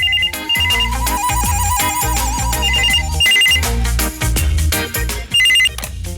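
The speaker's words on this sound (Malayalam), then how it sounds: "അത് പറഞ്ഞപ്പോ മോഹനേട്ടൻ ചോദിക്കുക, ബെല്ലടിക്കുന്ന കേൾക്കുമ്പോഴേ വിളിക്കുന്ന ആരാണെന്ന് അറിയാൻ പറ്റുമെന്ന്." A telephone rings with a loud, repeating melodic electronic ringtone over a steady beat, filling the whole stretch without any talk.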